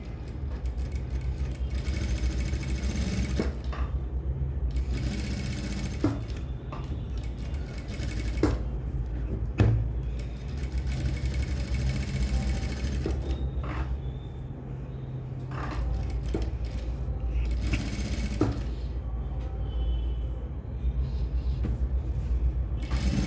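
A sewing machine stitches around the piping of a blouse with a steady motor hum and low rumble, punctuated by scattered clicks and ticks, with no talking.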